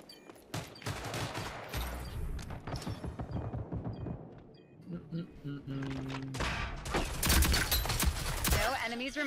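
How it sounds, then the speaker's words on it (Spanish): Submachine gun fire in a video game: rapid bursts of sharp gunshots in quick clusters, loud and close, with mechanical clatter between volleys and a person talking over the action. "He de coger mi arma, mi subfusil."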